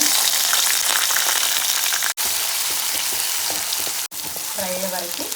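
Onions with cumin, mustard seeds and urad dal frying in hot oil for a radish fry, a loud continuous sizzle with crackling and a couple of brief stirring breaks.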